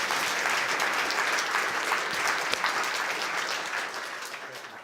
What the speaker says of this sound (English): Help me with giving an applause.